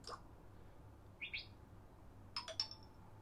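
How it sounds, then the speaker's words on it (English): Nature birds ringtone theme on a MIUI 11 phone: a few faint, sparse bird chirps and quick tweets, with a short trill near the end, heard alone over quiet background hum. "let's listen to the nature birds theme"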